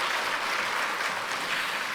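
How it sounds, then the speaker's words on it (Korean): A church congregation applauds the choir during a Sunday service, a continuous, even wash of many hands clapping throughout, with no talking over it. "우리 찬양대 격려하는 박수 한번 좀 하게 되겠습니다"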